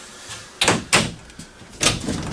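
Storage drawers pulled out inside a 2016 Forest River Berkshire 38B diesel motorhome, giving several short knocking slides and thuds, close and fairly loud, with no talk.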